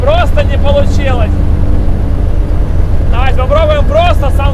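A KAMAZ truck with a 1000-horsepower engine drones low and continuous, running roughly, while excited voices talk over it in two bursts.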